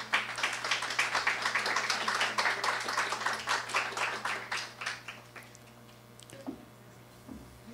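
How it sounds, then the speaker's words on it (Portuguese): An audience at a Brazilian election forum applauds, a dense burst of clapping that holds for several seconds and then thins into scattered claps and fades out. "Por favor, uma salva de palmas."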